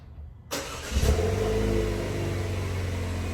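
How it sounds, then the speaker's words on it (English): A 2017 Chevrolet Camaro RS engine cold-starts with a sudden crank and a brief rev, then settles into a steady, loud, rumbling idle close by. "Cold Start 2017 Camaro RS."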